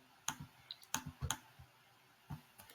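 Sparse clicks of typing on a computer keyboard, a handful of separate key taps spread over a few seconds, close and fairly quiet in a still room with no talking.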